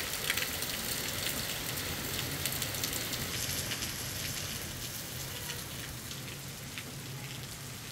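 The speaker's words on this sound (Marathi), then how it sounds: "संभाजीनगर जिल्ह्यात देखील जोरदार पाऊस झाला." Heavy rain falling in Sambhajinagar district, a steady dense hiss of drops on surfaces, even and unbroken throughout with no voices.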